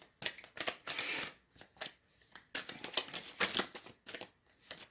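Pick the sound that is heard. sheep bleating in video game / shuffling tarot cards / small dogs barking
shuffling tarot cards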